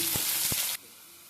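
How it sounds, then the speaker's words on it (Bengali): Bay leaf, cloves, cardamom, cinnamon, cumin, three dried chillies and chopped onion sizzle in hot oil in a wok, with a bright hiss, two short stirring clatters, then an abrupt cut to quiet. "কড়াই তেল গরম হয়ে গেছে, এর মধ্যে দেব তেজপাতা, লং, এলাচ, দারচিনি, জিরে, 3টা শুকনো লঙ্কা আর পেঁয়াজ কুচি।"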